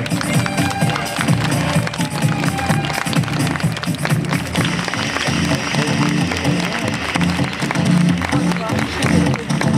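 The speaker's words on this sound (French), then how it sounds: "Voilà, applaudissements pour Adeline Polomac." A dense, steady round of applause fills a hall at a local beauty pageant, many hands clapping at once with a crowd murmur beneath, loud and continuous throughout.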